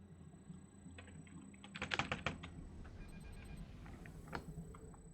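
Rapid bursts of typing on a computer keyboard, close and quiet, with a dense flurry of clicks near the middle and scattered single keystrokes around it, no talking.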